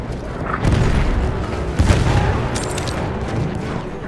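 Battlefield 1 combat on the Austro-Hungarian side at Vittorio Veneto in 1918: deep booms and gunfire with a heavier blast near the two-second mark, amid a busy layered din and no clear speech.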